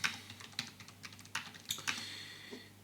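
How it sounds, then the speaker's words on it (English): Quick typing on a computer keyboard while composing a short message, a loose run of close, sharp key clicks with uneven pauses and a few harder taps, heard alone with no talk. "it is literally as simple as typing a message to tell the members something"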